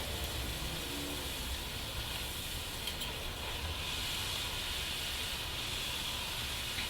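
Hot oil sizzles and hisses continuously as a rose cookie fries, a steady, close crackling texture with no talking.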